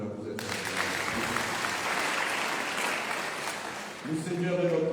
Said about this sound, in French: Applaudissez pour nous-mêmes